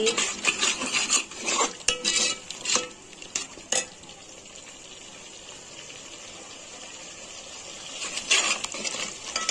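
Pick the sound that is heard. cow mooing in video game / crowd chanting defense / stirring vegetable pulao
stirring vegetable pulao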